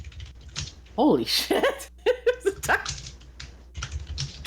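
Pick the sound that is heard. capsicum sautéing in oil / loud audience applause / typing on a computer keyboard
typing on a computer keyboard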